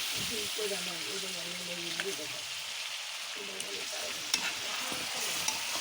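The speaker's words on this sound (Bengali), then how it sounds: "মাছটা কষাবো" Fish sautés and gets stirred in a pan over a clay stove, a soft steady sizzle with scraping stir strokes and a few light clinks, fairly quiet, with a voice briefly heard.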